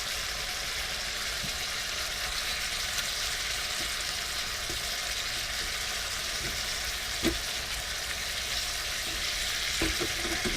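Garlic frying in a wok, a faint, even sizzle with occasional light clicks of stirring, alone and without speech.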